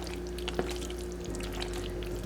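Cheese sauce is poured from a pot into a pot of macaroni noodles for southern-style baked macaroni and cheese, a soft, steady pouring wash over a low constant kitchen hum.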